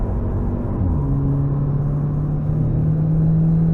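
A car on the Nürburgring Nordschleife pulls at full throttle, heard from the cabin as a loud, steady low engine drone whose pitch climbs as it accelerates, with road rumble beneath.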